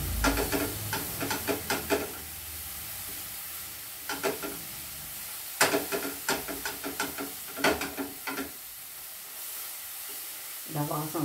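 Garlic sautéed in hot oil in a pan, a soft steady sizzle broken by bursts of stirring and scraping clatter, close and moderately quiet.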